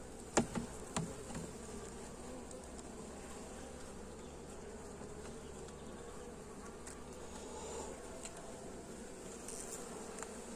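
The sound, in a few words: small bees buzzing during a beehive inspection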